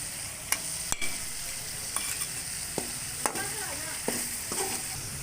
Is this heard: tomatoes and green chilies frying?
yes